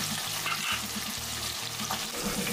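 Curry leaves frying in hot oil for South Indian veg pulav, a close, brisk sizzle with bursts of crackling and a low repeating stir rhythm underneath, no voices.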